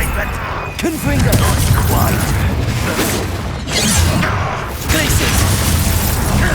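Confringo blasting spell explosions in the video game Hogwarts Legacy, loud booming bursts with crackle, repeated over several seconds amid dense combat noise and voices.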